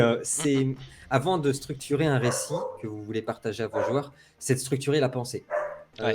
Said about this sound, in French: c'est mon chien que vous entendez, désolé